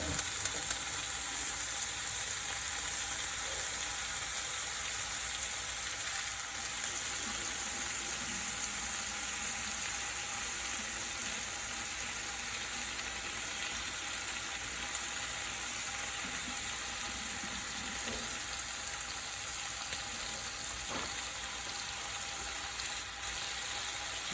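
Porterhouse steaks sizzle in a greased pan during a reverse sear, giving a steady, even hiss that holds without a break throughout.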